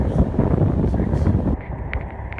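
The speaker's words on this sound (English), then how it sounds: "A lot of wind coming up this road here." Strong wind coming up a road buffets the microphone in heavy low rumbling gusts, easing somewhat partway through, with faint higher noises near the end.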